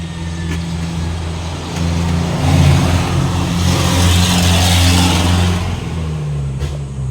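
A vehicle with a misfiring engine passes close by, its rough, heavy drone swelling loud midway and fading, layered over a steady low engine hum nearby with no talk.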